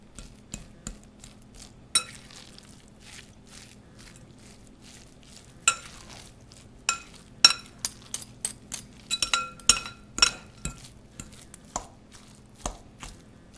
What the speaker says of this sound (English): I'm going to mix it up as much as I can to start with forks